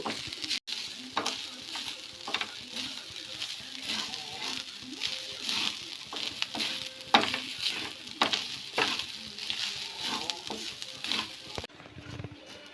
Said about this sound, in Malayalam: ഇത് മൂത്ത് തേങ്ങ നമുക്ക് മൂപ്പിച്ചെടുക്കാം